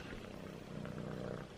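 A cat purrs with a low, steady rumble close by, continuous and soft throughout with no other sounds.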